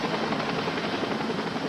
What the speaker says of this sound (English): A Mediflight helicopter was also dispatched from more than 50 miles away, along with a search and rescue helicopter.